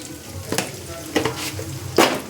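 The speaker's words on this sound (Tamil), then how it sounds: "முட்டை வந்து நல்லா பொரிஞ்சு வந்துடுச்சு." Eggs scrambled and stirred in a hot pan with salt, three distinct scraping strokes sweeping over a steady close sizzle, with no talking.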